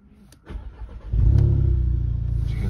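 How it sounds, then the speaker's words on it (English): A 2015 Audi S3 with a sport exhaust cranks briefly, then catches and settles into a loud, steady idle, close by with no talk. "If I just turn on the vehicle."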